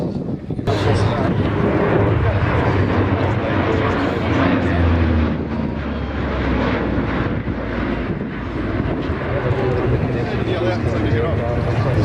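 A Lockheed P-3 Orion patrol aircraft flying past at a Wings over Illawarra airshow at Illawarra Regional Airport, its loud propeller roar and wind noise filling the air under continuous commentary.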